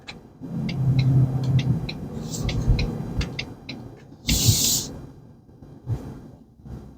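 A new V8 Ford Mustang GT 5.0 rental with about 7,000 miles pulls hard out of a corner, its engine a continuous deep rumble inside the cabin, with a series of regular light clicks above it.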